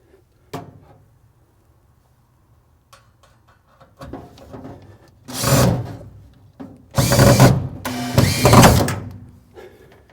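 A power drill drives screws while a 36-inch wall-mount range hood is installed, giving a few short whirring bursts followed by two longer, louder spells of drilling with small clicks and taps in between.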